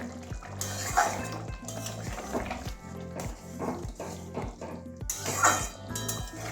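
A metal lid comes off a pot of simmering egg and potato curry with capsicum, giving clattering pot-and-pan clinks and scrapes with a louder knock near the start and another toward the end, over a low steady cooking hum.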